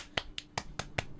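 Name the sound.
hand clap close to the microphone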